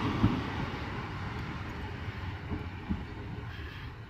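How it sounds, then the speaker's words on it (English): Class 153 diesel railcar 153333 at Swansea station, a low rumbling engine drone with faint clunks and rattles, distant and quiet, steady throughout with no talk. "And our final train of the day is an odd looking 153333"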